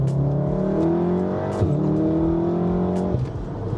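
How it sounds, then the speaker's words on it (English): A Volkswagen Golf R with a Stage 2 tune revs hard and accelerates, pitch climbing through the gears with a brief shift, loud and close, then easing off. "The way these cars just grab and take off."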